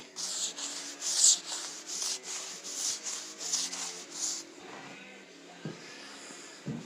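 Steady back-and-forth rubbing of sandpaper on a wooden barn door, close and rhythmic, strokes fading out near the end with a few faint knocks.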